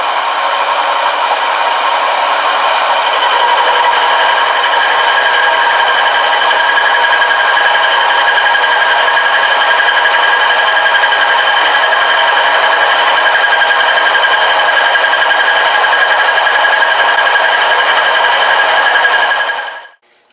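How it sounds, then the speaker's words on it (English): End mill chattering while ball-turning at 1000 RPM on a milling machine, a loud, continuous shrill whine with a steady ringing tone that holds for about twenty seconds before cutting off abruptly at the end. "That's where the chatter doesn't exactly disappear, but is a little more tolerable."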